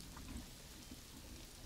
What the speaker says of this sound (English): because I want to have the rain back